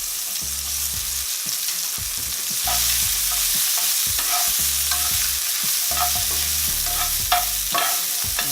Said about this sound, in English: in that same pan, we're gonna go ahead and add a little bit of olive oil into the pan. Then we're gonna toss in the purple onions